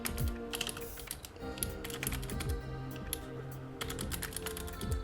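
Rapid typing on a computer keyboard, with steady clicking keystrokes in uneven bursts and brief pauses, close and clear over a faint background hum.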